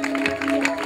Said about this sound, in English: Go ahead, lift an applause to the Lord.